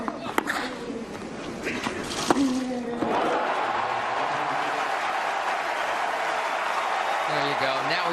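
At the 2016 Roland Garros final between Djokovic and Murray, a tennis crowd breaks into sustained applause and cheering that swells after a few seconds of scattered claps and voices, then holds as a dense, roaring wash.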